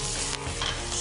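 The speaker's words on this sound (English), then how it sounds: "Skin side down into the pan." Chicken breast placed skin side down in a pan with butter, giving a loud, dense, steady sizzle of frying over a brief moment.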